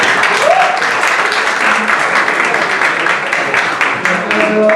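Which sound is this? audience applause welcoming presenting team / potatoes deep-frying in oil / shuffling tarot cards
audience applause welcoming presenting team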